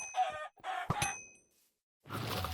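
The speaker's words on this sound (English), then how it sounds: "Gonna go in here, kill some angry chickens" Chickens clucking in the video game Wynncraft, with two short bursts of game-fowl calls, a sharper hit between them, a near-silent pause, then a broad noisy burst at the end, all close and fairly loud with no talk.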